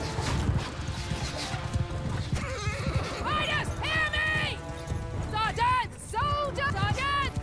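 Horses in the video game Mount and Blade Bannerlord whinny repeatedly during a cavalry battle over a busy mix of hoofbeats and battle noise, with voices and clatter underneath.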